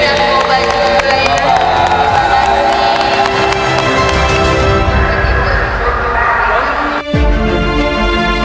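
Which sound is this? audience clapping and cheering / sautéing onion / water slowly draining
audience clapping and cheering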